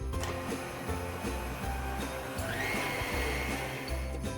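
A stand mixer whirs steadily as it works pumpkin puree into sopaipilla dough, the motor droning continuously with a rhythmic thumping as the dough turns in the bowl.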